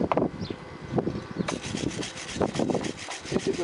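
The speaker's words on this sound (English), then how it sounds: "Hit it with a wire brush." Harsh bristly wire-brush scrubbing rasps back and forth against a metal weld in quick irregular strokes, close and fairly loud, with no one speaking.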